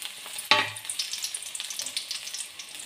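Dried red chilies fry in hot oil in a pan, with a sharp sizzling splash as they drop in, then a steady crackle and spitting with a faint scrape of stirring, close and alone.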